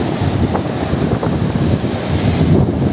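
Cold, fast-flowing Bhagirathi river near Mukhwa village, a steady close rushing wash of water mixed with wind buffeting the microphone, no talk.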